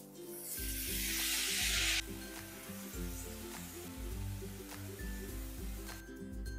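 Salted, turmeric-soaked banana flower going into a pan of potatoes frying with ginger and cumin, a loud burst of sizzling hiss at first that settles into a quieter fry under steady background music.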